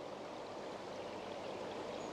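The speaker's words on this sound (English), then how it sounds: "So we have these 4 meter high bubble walls." Water bubbling up through tall 4-metre bubble walls in a luxury UK home, a close, continuous fizzing and gurgling wash, even and unbroken across the whole moment, with no one speaking.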